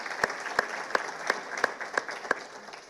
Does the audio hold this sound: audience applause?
yes